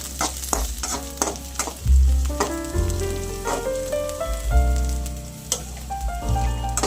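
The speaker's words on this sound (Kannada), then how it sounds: "ಈಗ ಫ್ರೈ ಆಗ್ತಿದೆ." Onion and cabbage fry in a pan with a crisp continuous sizzle, while a spoon scrapes and knocks against the pan in repeated stirring strokes, close and fairly loud.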